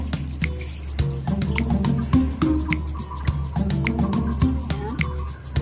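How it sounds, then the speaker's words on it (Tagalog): Water runs from a tap and splashes onto milkfish being prepared for stuffed bangus, a steady close splashing stream with small drips and clatter, no talk. "Lagyan natin ng tubig."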